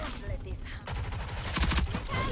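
A rapid burst of gunfire in the video game Rogue Company, several sharp shots in quick succession, with a voice briefly audible underneath.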